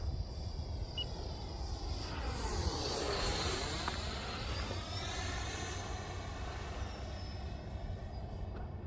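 A 64mm 3D printed A-4 Skyhawk model jet cruises at about 40% throttle, its faint steady whoosh swelling and fading as it passes at a distance.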